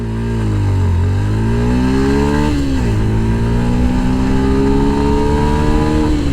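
A Yamaha FZ S Version 3.0 BS6 motorcycle in a top speed run, its engine loud and close as it revs hard, with the pitch climbing, dropping briefly at each gear shift, then rising again.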